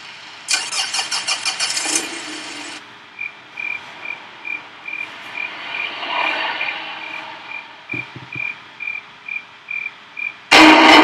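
A car engine cranks and catches in a homemade video game, a rapid stuttering whir that settles into a running idle, followed by a steady chirping tone like crickets and a loud burst at the end.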